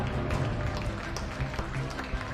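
A stadium crowd applauds and cheers a 1500 metres runner coming down the home straight at the Virtus World Athletics Championships, steady clapping under an announcer's voice.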